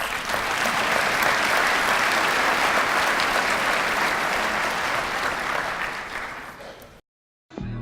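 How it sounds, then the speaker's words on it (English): Dense, sustained audience applause at a scholarship awards ceremony, loud and steady for about seven seconds before cutting off abruptly, with a brief burst resuming at the very end. "Let's give them a round of applause."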